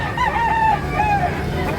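A rooster, a young stag at a busy poultry market in Tabunok, Talisay, Cebu, gives one strained crow over a steady crowd hubbub.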